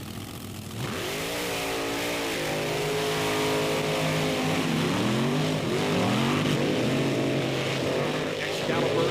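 10,000-pound monster race trucks on a beach track roar loudly with rising, swooping engine revs as they accelerate, heard over a broadcast commentator talking.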